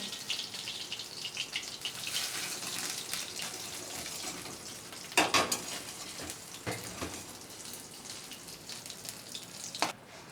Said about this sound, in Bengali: বন্ধুরা ওই তেলের মধ্যেই আমি কালো জিরে ফোড়ন দিলাম